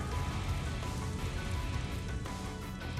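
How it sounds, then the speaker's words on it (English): Steady rain falls in the video game Trails of Cold Steel IV, a constant broadband hiss with a low rumble that runs unbroken and fairly loud for the whole stretch. "Wait, rain? Oh no!"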